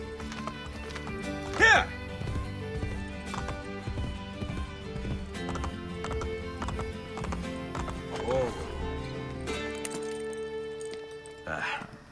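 A horse in the video game Assassin's Creed Brotherhood clip-clops and gallops steadily under game music, letting out a couple of loud whinnies, with someone briefly speaking over it.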